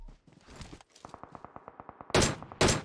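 Rapid automatic gunfire from PUBG Mobile, a burst of about fifteen evenly spaced shots followed by two loud, close blasts, with no talk over it.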